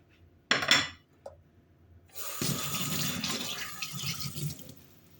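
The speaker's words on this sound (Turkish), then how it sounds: "Hemen ellerimi yıkayayım." Tap water runs into a kitchen sink while hands are washed, a steady splashing stream starting after a few brief clinks and knocks, close and moderately loud until the end.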